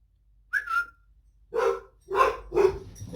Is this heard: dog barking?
yes